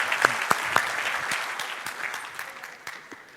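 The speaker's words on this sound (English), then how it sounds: "a good shout of applause for the DefCamp organizers who are doing a very good job for organizing DefCamp" Applause from a conference audience honoring the DefCamp security event organizers, a few sharp claps up front then dense, moderately loud clapping that thins out over a few seconds.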